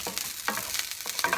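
Fried rice with soy sauce, sake and butter sizzling in a pan, stirred in quick bursts of crackling frying, close and moderately loud, with no voices.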